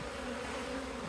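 Honey bees buzz steadily at the back entrance of an apiary hive box that has come slightly apart, a continuous close drone with a sustained tone and no voices.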